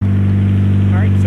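A Scion FR-S engine idles steadily after an oil change, a loud, even, low hum that holds constant and close throughout.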